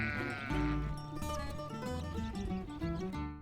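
Goats on a Wisconsin farm bleat loudly and repeatedly, several animals calling over one another close by in a continuous, wavering chorus.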